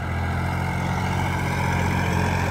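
Massey Ferguson 9500 Smart tractor's diesel engine running steadily at 1800 rpm, a loud, constant, close-up low drone with no talk.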